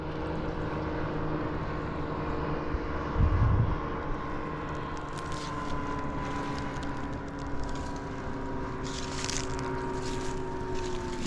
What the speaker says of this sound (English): There goes a power boat over there, riding across the lake.